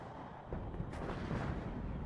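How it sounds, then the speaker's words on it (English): Artillery fire in the video game WARNO: a dense, rumbling barrage with a sharper burst near the middle, rolling steadily with no let-up. "Die Artillerie verleiht der hässlichen Klopperei etwas Würde."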